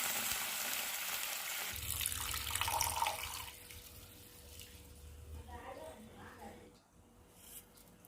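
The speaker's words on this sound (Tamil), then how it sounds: "நம்ம எடுத்த அரிசி கிளாஸ்லேயே 2 கிளாஸ் அளவுக்கு தண்ணி சேர்த்துக்கோங்க." Water is poured into a pan for making rice laddu, giving a close splashing, running gush that fades into softer trickles, with someone talking over it.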